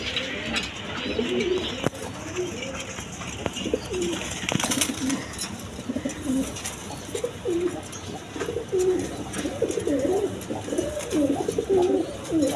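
Indian Bombay pigeons in a black pair, cooing repeatedly in rolling, pulsing calls that continue throughout, close by with some clatter and background noise.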